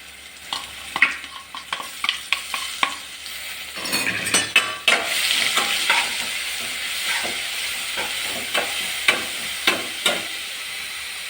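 Crushed curry leaves and red chilli powder sizzle and crackle in hot oil for a Kerala raw jackfruit stir-fry, with repeated scraping stirs and a louder burst of frying midway, no talk.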